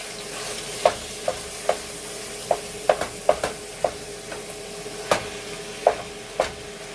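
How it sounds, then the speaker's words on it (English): Ground beef fries in a pan, a steady sizzle under a string of sharp clinks and scrapes from stirring that recur every second or so, close and fairly loud, no talking. "our ground beef is frying now"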